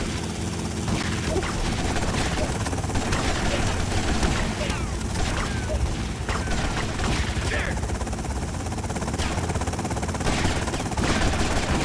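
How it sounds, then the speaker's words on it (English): A helicopter in Grand Theft Auto Vice City beats steadily throughout, mixed with bursts of automatic gunfire and dense shooting at a loud, continuous level. "Oh my God, they've got a helicopter!"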